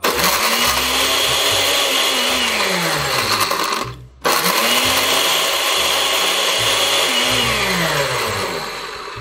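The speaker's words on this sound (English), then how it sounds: "I'm going to close this up in here, and the ice crush button." An electric ice crusher grinding ice for a Navy Grog tiki drink, a loud close motor roar with rhythmic crunching that runs for about four seconds, stops briefly, then starts again and continues.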